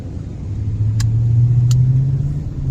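An Infiniti Q45 V8 car driving gently in traffic, its low engine hum steady and close inside the cabin, with two brief faint clicks along the way.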